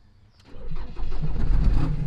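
A Ford Transit turbo van that sat abandoned for years is started. After a brief quiet, the starter cranks, the engine catches within about half a second, and it settles into a loud, rough, rumbling run close by.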